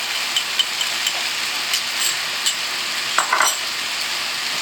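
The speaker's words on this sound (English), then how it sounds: "Give that a stir." Garlic and ginger frying in a pan for a Chinese chicken and mushroom curry are stirred, giving a steady sizzle with a few light scrapes and clinks of the utensil, loudest briefly near the end.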